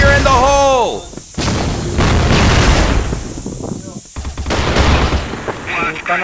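Grenade blast and heavy gunfire in a CrossFire clan-war match, loud bursts and crackling shots under a voice calling out early on.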